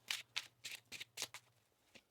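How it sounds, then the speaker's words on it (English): Tarot cards are shuffled in a rhythm of seven or eight separate papery bursts, close and crisp over a faint low hum. "One more shuffle here."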